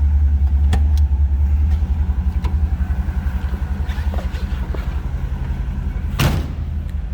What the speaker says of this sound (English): Slip around back so you can hear that 350 run. Mild cam, nothing crazy or over the top. Nice little rumble